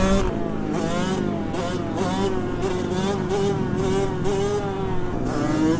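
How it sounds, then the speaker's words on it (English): A two-stroke 85cc dirt bike engine buzzes high and raspy in a mini bike race, revving up and down in a steady rising and falling whine, close and loud. "I'm on an 85 two-stroke."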